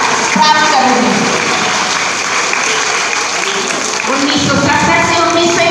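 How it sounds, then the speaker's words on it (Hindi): Loud, sustained clapping from a large group of children at a centenary commemoration gathering, a dense continuous roar of applause filling the whole stretch. "बच्चों आज भी उनके लिए ताली बजाइए जोरदार"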